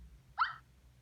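A Yorkshire Terrier puppy in the Nintendogs + Cats video game gives a single short, high whimpering cry, faint against a quiet background.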